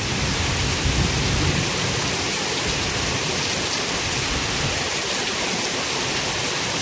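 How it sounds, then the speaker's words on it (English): Heavy rain pours down steadily during a thunderstorm in South Carolina, a dense, loud, continuous hiss with low rumbling underneath throughout. "it rained like this almost the whole way"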